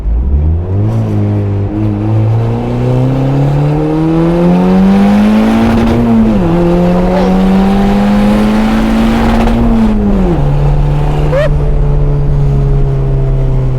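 A 1966 Mustang with a swapped turbocharged Honda K-series engine accelerates hard, its loud rising engine tone climbing through two gear shifts with a brief dip between them, heard close from inside the car.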